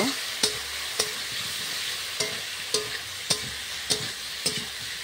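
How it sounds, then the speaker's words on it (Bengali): Potatoes and spices with turmeric and chilli powder fry in a pan, a constant sizzle punctuated by regular, evenly spaced scrapes of a spatula, about one each half second, no talking. "আর একটু হলুদের গুঁড়ো 1 চামচ, আর একটু লঙ্কার গুঁড়ো আমি অ্যাড করে এবার ভালো করে আমি কষিয়ে নেব।"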